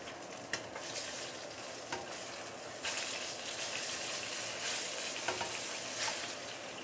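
Fish deep-fries in oil with a dense, loud bubbling sizzle that swells after a few seconds, broken by occasional sharp ticks and pops.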